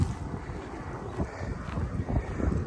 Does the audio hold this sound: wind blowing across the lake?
yes